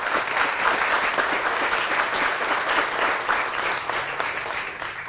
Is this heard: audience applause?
yes